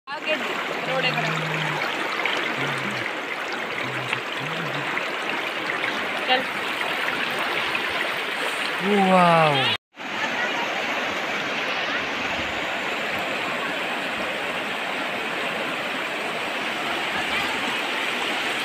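Fast-flowing stream water rushes loudly and continuously, with splashing close by from people standing in it against strong water pressure; a person briefly exclaims partway through.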